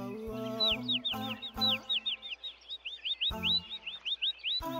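A cartoon bird chirps in a quick series of high, repeated tweets, while low, harmonic animated voice-like sounds or clucks break in at intervals around it.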